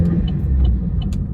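A Vauxhall Corsa VXR engine idles with a steady low rumble, close and continuous, with a few faint ticks over it.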